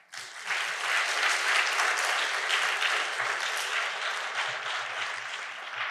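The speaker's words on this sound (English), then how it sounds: "Give her a hand of applause." Sustained audience applause greets a speaker being introduced at a talk on emotional boundaries and compassion fatigue, a dense steady wash of many hands clapping that starts abruptly and holds evenly loud for several seconds.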